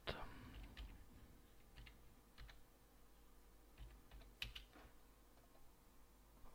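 Quiet, scattered keystrokes tap on a computer keyboard as a CAPTCHA code is entered, irregular clicks over a low background hum.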